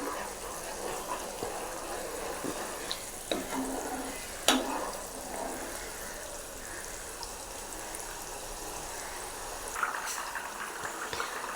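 Homemade ghee simmering in a pan gives a steady, close, low sizzle and bubbling, with occasional scraping stir strokes and a brief clink partway through; no one talks.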